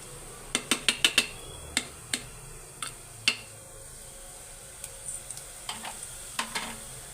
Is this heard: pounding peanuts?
yes